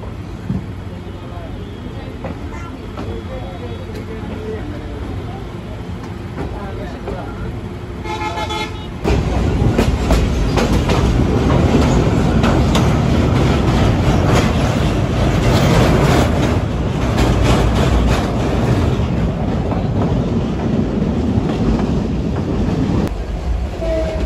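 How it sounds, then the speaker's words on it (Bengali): Mohanganj Express train pulling out of Thakurakona railway station, a loud rumble of wheels and carriages that swells and grows steadier as it gains speed, with a horn toot and voices talking over the noise. "আমাদের ট্রেন ঠাকুরাকোনা রেলওয়ে স্টেশনে তার নির্ধারিত যাত্রা বিরতি শেষ করে এখন আবারও ছেড়ে দিল"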